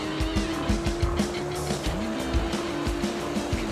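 A car accelerating hard out of a bend on a race track, engine note climbing with tire squeal and repeated low thumps, loud and close.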